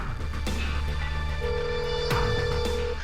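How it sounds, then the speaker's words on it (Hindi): A phone rings while calling dad's number: a steady ringing tone sounds under continuous background noise, with no talking. "पापा के नंबर पे कॉल कर रहा हूँ तो ये फोन रिंग हो रहा है।"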